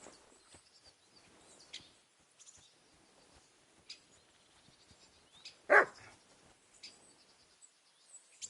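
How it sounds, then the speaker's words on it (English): A single dog bark in the video game Kingdom Come Deliverance 2 rings out once, sharp and fairly distant, over a quiet ambient backdrop with faint scattered clicks and bird-like chirps. "Barking?"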